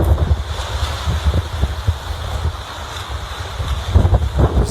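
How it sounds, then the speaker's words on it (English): Storm surge waters in Massachusetts churn with steady wind buffeting the microphone and rough, low rumbling surf throughout, loud and continuous with no voices. "If you look at the water levels and this storm surge coming in"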